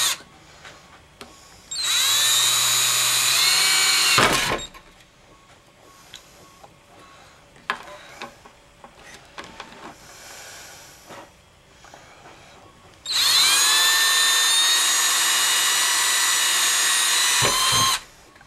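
Two bursts of a cordless power drill, each winding up to a high whine for a few seconds, bore holes in a metal flashlight tube, with quiet handling clicks between them.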